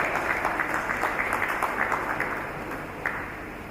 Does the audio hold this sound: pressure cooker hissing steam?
no